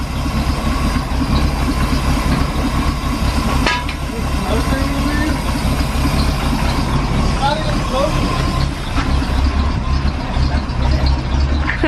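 A Chevrolet C10 truck engine idles steadily just after its first start in ten years, a continuous low rumble running throughout with people talking over it.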